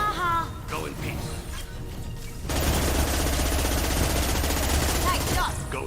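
Gunfire in Mass Effect 2 during a fight on Illium, a dense continuous burst of automatic shots taking over midway and running loud to the end, with brief voice sounds early on.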